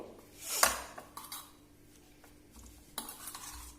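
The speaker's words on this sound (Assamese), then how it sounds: "এতিয়া আমি ইয়াত ভালদৰে মিক্স কৰি লম গোটেইখিনি" Soybean and squash momo stuffing being stirred in a pan: a spoon scrapes and clanks against the metal in a few distinct bursts over a faint sizzle, with quiet gaps between strokes.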